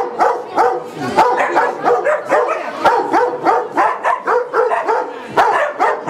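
A dog trained to guard barks over and over in quick, loud bursts, with a few yips and whimpers mixed in, close by and with no talk.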